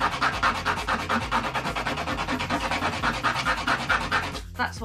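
Steady rhythmic rubbing while crafting an Egyptian cartouche, the hand moving back and forth and up and down in quick even strokes, close and continuous before stopping abruptly.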